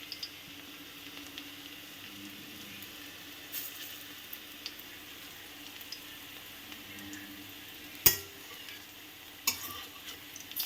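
Bitter gourd pakoda fries in hot mustard oil with a faint, steady sizzle, sprinkled with small ticks and a couple of sharper utensil clacks later on.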